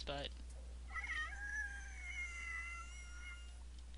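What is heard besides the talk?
baby links creature sound in video game Meadow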